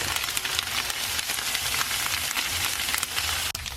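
Vegan paneer pieces sprinkled with nutritional yeast and turmeric fry in a pan with a steady, close sizzle and crackle, broken now and then by small pops and stirring noises.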